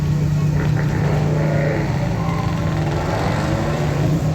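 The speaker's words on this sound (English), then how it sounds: "That's the sound of a 1955 Chevy, over 6 litres of V8 power heading up Kop Hill then." A 1955 Chevrolet with a V8 of over six litres climbs Kop Hill at a hill climb event, a steady loud low engine drone with a strong rumbling hum holding throughout the run.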